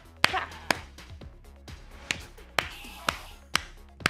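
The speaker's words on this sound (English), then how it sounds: "Clapping too loudly for OBS." Several sharp hand claps spaced apart, loud and close, with a faint steady background hum between them.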